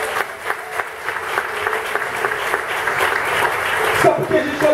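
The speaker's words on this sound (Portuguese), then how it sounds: "Pode aplaudir o Senhor." Applause from a church congregation during a sermon, a steady patter of clapping that runs throughout, with a voice speaking faintly over it.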